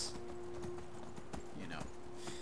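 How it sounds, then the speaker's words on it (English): A horse's hooves clip-clop in a steady rhythm as it is ridden in the video game Skyrim, moderately loud under someone talking. "running around on my horse."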